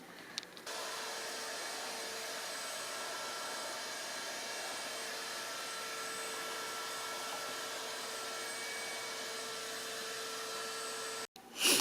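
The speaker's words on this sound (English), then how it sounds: "Right now I'm just vacuuming." A vacuum cleaner runs in a basement, a steady loud droning whir that holds for about eleven seconds before cutting off abruptly near the end.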